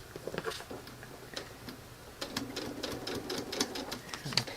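Domestic sewing machine stitching a class quilt, running in steady rapid ticking bursts with brief pauses, close and fairly quiet, a voice speaking softly over it.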